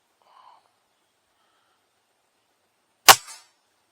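A single sharp, close report from a Weihrauch HW97 .20 caliber air rifle fitted with a Vortek tune kit cracks out after near silence. A faint breath comes early on, and a short tail follows the shot.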